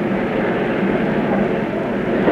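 Navy carrier jets, A-4 and A-6 attack aircraft, running their engines on deck, a loud continuous roar with a broad rumbling hiss that stays steady throughout.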